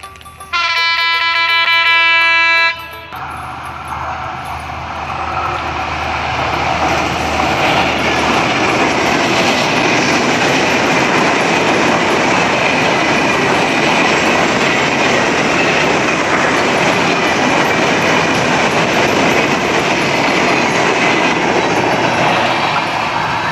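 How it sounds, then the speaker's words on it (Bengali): A train horn blares briefly, then a loud, steady rush of wheels clattering on the track as the train passes close by at Belai Chandi, a station with no platform or shed. "আমরা দেখছি যে পার্বত্যপুরের দিক থেকে একটি ট্রেন এইদিকে আসতেছে"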